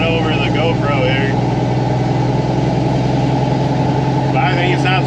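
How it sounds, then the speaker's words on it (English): A Mack CH dump truck engine running with a broken exhaust, a loud steady low rumble throughout while someone talks over it at the start and end. "the exhaust is broke on the red dump truck. Louder than you think"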